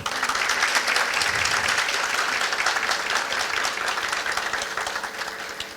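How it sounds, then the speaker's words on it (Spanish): An audience applauds warmly, a steady dense clapping that holds for several seconds and slowly tapers near the end. "Yo pido para ella un aplauso, por favor."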